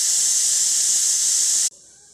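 Cooking oil hisses steadily and loudly in a pan for about a second and a half, then drops suddenly to a much quieter hiss.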